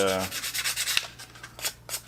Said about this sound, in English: I'm going to do a little bit of sanding on these